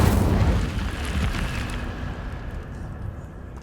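An Incendio fire spell cast in a video game bursts with a loud whooshing blast that fades into a crackling, dwindling roar over a few seconds.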